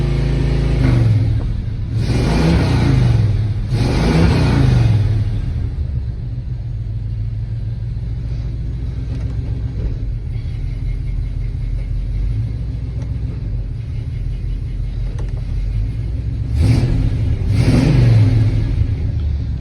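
A deep, rumbling truck engine revs hard three times through a loud throaty custom-built full exhaust with headers, settling into a steady idle between bursts; close and loud.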